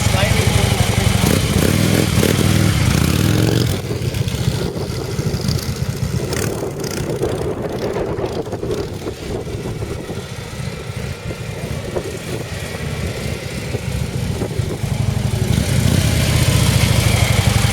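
A motorcycle engine idles and rumbles nearby as the bike turns from a stop, a steady mid-pitched throb that dips slightly and swells again, with someone talking over it.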